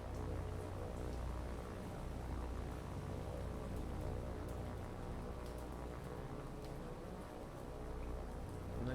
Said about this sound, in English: Ooh, it's raining too.